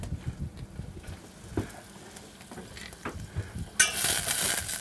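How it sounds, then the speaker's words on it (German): Onions frying in a pan on a boat's galley stove, a soft low sizzle with occasional stirring clatters, growing into a brighter, louder hiss near the end. "Während die Zwiebeln glasig gebraten werden"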